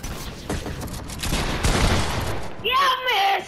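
Video game gunfire crackles in rapid, dense bursts for most of the stretch. A voice comes in near the end.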